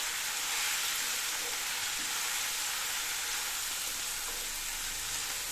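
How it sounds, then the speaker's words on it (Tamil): Mint and other ingredients for a mint thokku sauté in a pan, giving a steady, soft, even hiss of frying that holds unchanged throughout with no talking. "எல்லாத்தையும் சேர்த்து 1 நிமிஷத்துக்கு வதக்கணுங்க."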